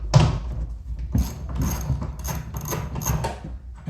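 A ratchet undoes 10mm nuts on a Mazda 3 hatch tail light, giving close, loud bursts of clicking and metallic mechanical rattling.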